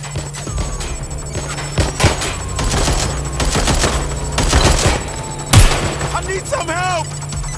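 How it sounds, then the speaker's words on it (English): Gunfire in the video game Watch Dogs Legion, a chaotic spread of sharp shots and bursts layered over a steady droning game soundtrack, with a sudden loud crack near the end and a shouted voice in the mix. "Shots fired!"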